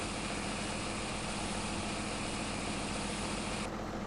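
Tractor engine in Farming Simulator 17 on PS4, pushing into barn rafters, a steady loud low drone with constant broadband rumble and no pauses, heard alone throughout.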